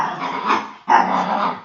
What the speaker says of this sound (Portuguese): deu a louca na minha cachorrinha